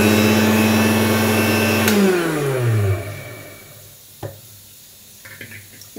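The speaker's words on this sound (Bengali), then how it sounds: "প্রথমে পোস্তটাকে শুকনো পোস্ত আমি মিক্সিতে দিয়ে দিই" A mixer grinder grinds dry poppy seeds at a loud, steady whine, then winds down with a falling pitch and stops, followed by a few small knocks and clatters near the jar.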